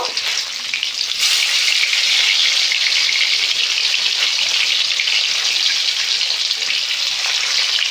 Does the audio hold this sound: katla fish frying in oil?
yes